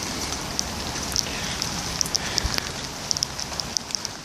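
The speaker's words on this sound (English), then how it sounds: "Right now it's raining quite good." Steady rain falling outside at night, a continuous dense hiss broken by frequent sharp drips and taps from drops hitting nearby surfaces.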